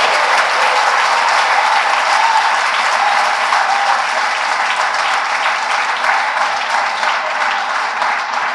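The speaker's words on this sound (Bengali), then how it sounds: "আপনাদের কাছ থেকে আমি একটা হাততালি পেতে পারি" A crowd applauds steadily for cricketer Mushfiqur Rahim at a Bangladeshi gathering, with dense, continuous clapping that holds at an even, loud level throughout and no voices over it.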